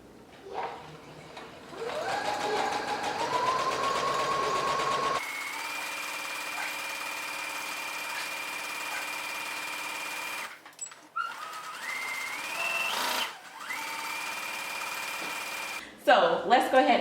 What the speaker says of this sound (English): Let's go ahead and put our stay stitching in our skirt now.